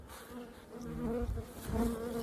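Honeybees buzz steadily around hive colonies being made up in September, a close, continuous drone that is moderately quiet, with no voices.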